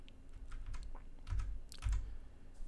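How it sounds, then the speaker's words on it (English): A computer keyboard's arrow keys are tapped in a loose run of soft, close clicks, with a couple of heavier presses standing out and no one talking. "and when you get it close, you can use the arrow keys"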